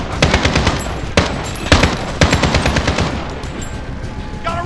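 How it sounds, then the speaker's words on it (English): Sustained machine gun fire in a realistic military shooter video game, loud rapid bursts of gunshots with a few sharper reports standing out, continuing throughout without talk. "Suppress that MG!"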